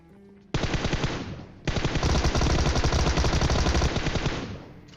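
Rapid automatic gunfire from a PUBG Mobile match, loud and close, in long dense bursts after a brief quiet opening, with a short break before the shooting resumes and carries on to the end.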